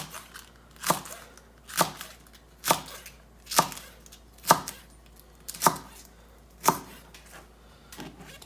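A knife chops through a rolled-up bundle of cabbage leaves on a cutting board, sharp crisp cuts arriving about once a second, eight or nine in a steady rhythm, close and clear with no talking.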